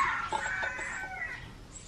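Chickens and roosters clucking and crowing on a rural farm in the Philippine countryside, fairly faint and somewhat distant, with no talking over them.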